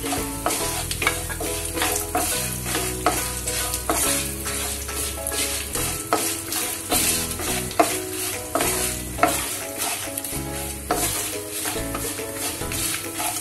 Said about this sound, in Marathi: आपला छान सुगंध येईपर्यंत आपल्याला छान भाजून घ्यायचे हे सगळे मसाले